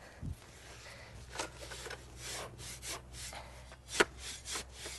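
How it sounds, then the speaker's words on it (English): Metal hand tools such as a shovel are plunged several times into a bucket of oily sand, giving soft irregular gritty scrapes and rubs up close, with one sharper scrape near the end. "Just plunge them in the sand a few times."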